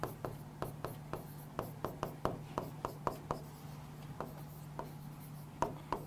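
Marker or chalk writing on a classroom board in a lecture room, close and fairly quiet, a run of short taps and strokes at an irregular pace over a steady low hum, with no voice.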